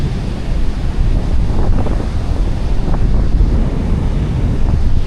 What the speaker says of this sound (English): would you just take a look at that sea?